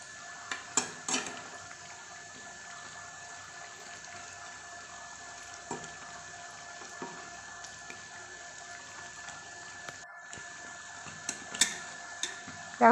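Masoor dal lentil fritters fry in hot oil with a steady, soft sizzling hiss, broken by scattered clicks and scrapes of a utensil turning them, close up and with no talk.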